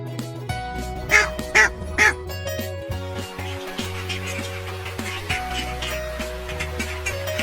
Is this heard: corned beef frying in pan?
no